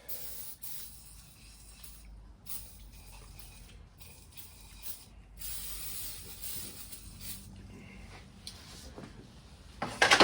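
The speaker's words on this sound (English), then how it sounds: "Let's spray a little PP blaster down these cylinders." Penetrating oil is sprayed in repeated hissing bursts with brief pauses into the cylinders of a seized Kubota diesel engine in a burnt skid steer, close and fairly loud, with some faint mechanical clicks and clatter around it.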